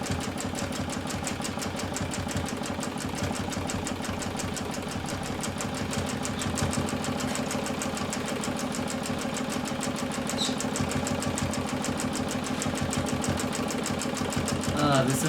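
A sewing machine runs steadily for free motion quilting, its rapid needle chatter even and continuous, close and fairly loud, building slightly in speed toward the end.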